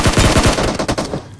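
SCAR-L assault rifle fire in the BGMI mobile shooter game, a rapid burst of about a dozen loud, close automatic shots in quick rhythm that trails off into a short echo.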